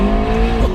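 A McLaren 650S engine pulls hard on twisty roads, a loud, steady, close-up drone with strong low harmonics, held continuously through the short moment.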